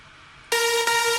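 Layered progressive house synth lead, a bright harmonic-rich tone that enters after a half-second of near silence and holds loud with two sustained stabs, no voices present.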